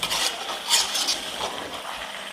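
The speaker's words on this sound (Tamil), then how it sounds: "இந்த மாதிரி இதை நல்லா கிளறி" Country chicken sukka masala is stirred in a pan at home. A spoon scrapes and rasps against the pan, close up and almost unbroken, with busy sizzling texture and no speech.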